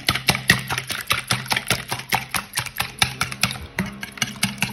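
Three small eggs are whisked by hand for a cake cream, a fast, regular clatter of utensil against bowl that repeats evenly throughout with no voice.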